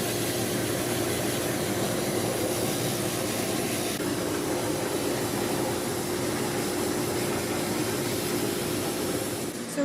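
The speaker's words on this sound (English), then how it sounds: "That's why you can hear the dryer in the background." A pet hair dryer blows on a dog drying inside a crate, producing a steady, loud, unbroken whooshing roar with a faint hum that holds level for the whole stretch, and no voices.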